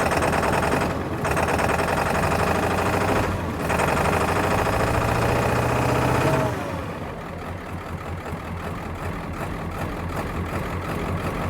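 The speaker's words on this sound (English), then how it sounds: "At least it's running. It's running rough." A Ford F350 diesel truck engine runs rough after a crank-no-start fault, with loud, uneven, choppy knocking for several seconds before it drops to a quieter, unsteady idle.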